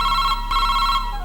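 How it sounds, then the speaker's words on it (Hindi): A telephone bell rings close by in a home, two quick electronic trills in a row, loud and clear over a low steady hum. "देखना किसका फोन है।"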